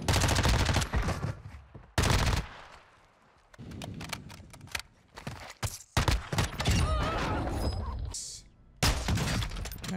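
Gunfire in the battle royale game Call of Duty Warzone, sniper rifle and submachine gun in play: sharp loud shots and rapid bursts come in clusters separated by brief quieter gaps, with scattered clatter and impacts.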